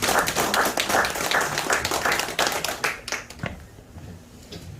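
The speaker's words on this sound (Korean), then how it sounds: "노래 없이 박수로 우리" A church congregation claps together during a Sunday service, celebrating a baby's first birthday. Dense, even clapping fills the room for about three seconds, then thins out and fades, with no talking.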